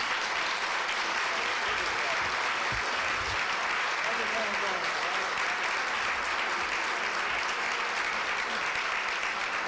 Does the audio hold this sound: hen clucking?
no